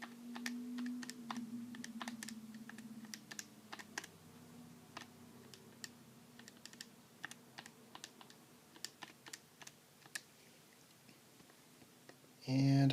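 Keys tapping on a computer keyboard while a number is entered in a math tutorial, a sparse, irregular run of faint clicks over quiet room tone, with a louder burst at the very end.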